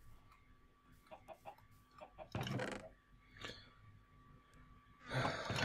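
Chickens cluck in the Minecraft video game, with several short soft clucks at the start and two louder bursts of game sound near the middle and end, all fairly quiet.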